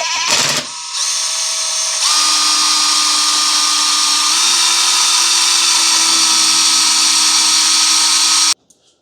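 A power drill spins the oil pump of a Ford FE 390 V8 engine counterclockwise, giving a loud, sustained high-pitched whine that briefly stutters at the start, shifts pitch slightly midway, then cuts off abruptly.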